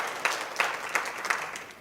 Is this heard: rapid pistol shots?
no